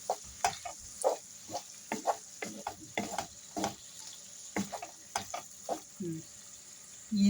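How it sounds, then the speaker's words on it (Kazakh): Meat frying in a pan with no water added, giving a soft, quiet sizzle beneath repeated scraping and stirring taps at an irregular rhythm. "Міне етті сусыз, ешқандай су қоймай осылай көшет еттім"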